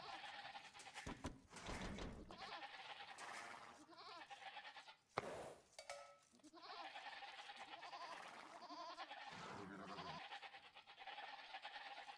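Sheep in the Age of Empires 2 video game bleat in repeated short harmonic calls, mixed with dull thunks and other busy game sounds.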